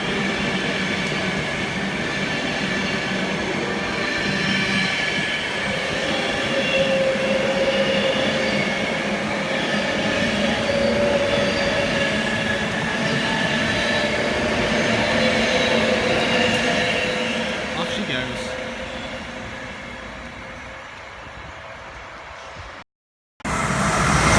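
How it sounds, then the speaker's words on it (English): A long Virgin Pendolino train rumbles steadily past at close range at Long Port, a sustained roar with faint metallic whine, fading slightly toward the end before a brief cut. "the next train is a Virgin Pendolino"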